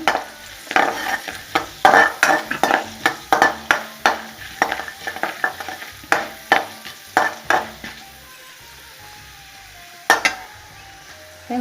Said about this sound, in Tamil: கடுகு பொரிஞ்சிடுச்சு இப்போ கடலப்பருப்பு போடுவோம்